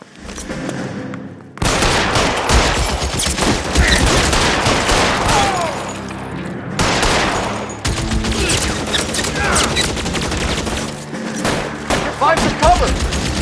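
Rapid bursts of gunfire from a shootout in L.A. Noire, a dense loud fusillade lasting most of the span, broken by a few short pauses.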